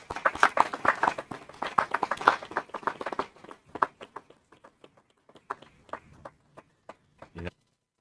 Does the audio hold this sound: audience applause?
yes